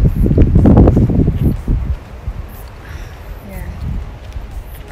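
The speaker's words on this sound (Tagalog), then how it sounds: "Mahangin siya." Wind gusting outdoors at Cape Leeuwin near the lighthouse, a steady low rumble buffeting the microphone; loud talk fills the first two seconds before the wind carries on alone.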